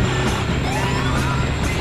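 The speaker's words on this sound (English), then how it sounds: "put on the sirens" A police car siren in the video game Battlefield Hardline wails in rising and falling sweeps over a steady low engine rumble, loud and continuous throughout.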